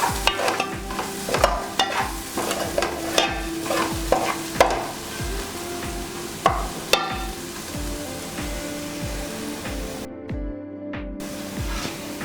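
A spoon scrapes and stirs chili powder through sizzling fish curry masala in a pan for pomfret curry, with steady repeated strokes over a constant frying hiss and a brief pause near the end.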